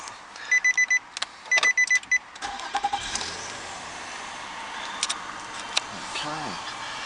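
A J32 Nissan Maxima 250 ST-L with a VQ25 2.5-litre V6 first gives a few warning chimes, then cranks and fires, settling into a smooth, steady idle heard up close.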